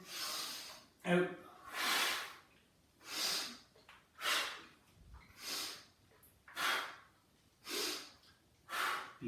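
Heavy rhythmic breathing during a squat exercise done while holding water bottles, about eight loud breaths in a steady in-and-out cycle, close to the microphone, with no speech over it.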